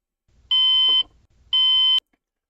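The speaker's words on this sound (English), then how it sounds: "Every time that alarm comes on, time to switch the cameras." Trading platform alert sounding two long, loud electronic tones about a second apart, each a steady pitched beep over faint background noise, with a brief rustle between them.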